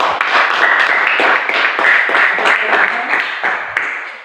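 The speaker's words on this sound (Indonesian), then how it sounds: "Tepuk tangan untuk kelompok satu yang telah mengatakan itu" Participants in a group discussion session applaud group one, several seconds of loud, close, dense clapping that tapers off slightly toward the end.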